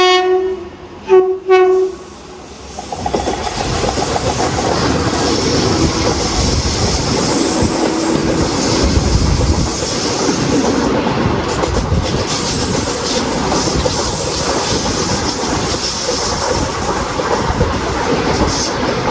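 The Ernad Express sounds two loud horn blasts, then settles into a continuous heavy rumble and clatter of carriages rolling along the track, with no voices.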